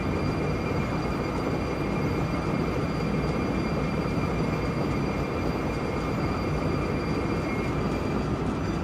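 A locomotive braking in the OpenRails train simulator gives off a continuous, loud rumble of rail noise with a faint high whine running through it.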